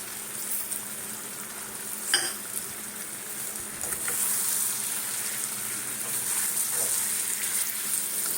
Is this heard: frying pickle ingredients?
yes